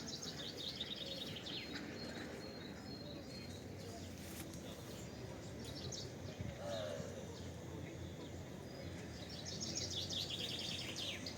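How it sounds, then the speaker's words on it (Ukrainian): Small birds chirp and sing outdoors on a spring day in Truskavets among blossoming trees, bright calls scattered over steady background noise and footsteps, with brief talk. "А пташки як співають."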